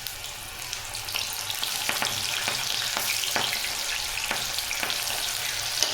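Corn kernels frying in hot oil for crispy corn give off a steady, dense sizzle with scattered sharp pops and spits throughout, continuous and fairly close, with no talking.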